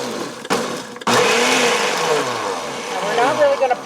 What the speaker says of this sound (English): we're just going to grind this up with the single